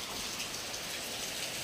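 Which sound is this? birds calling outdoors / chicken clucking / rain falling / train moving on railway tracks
rain falling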